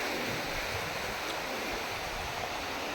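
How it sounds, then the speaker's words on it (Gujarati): Sea waves washing along a full tidal shore near a coastal village, a constant broad rushing wash heard at moderate distance with some wind, no talk. "અત્યારે દરિયો આખો ભરેલો છે જો, ને સામે કાંઠે મેથા આવેલું છે મિત્રો"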